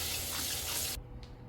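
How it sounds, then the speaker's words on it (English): Cold tap water runs hard into a kitchen sink over cucumbers being washed, a loud close rush that cuts off abruptly, leaving a faint drip. "So let me go ahead and wash these off real quick."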